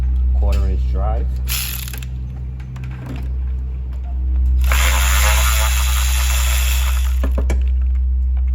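A quarter-inch drive ratchet works a corroded bolt on a 2015 Jeep Grand Cherokee 3.6L, giving loud close clicking bursts with brief pauses over a low steady hum.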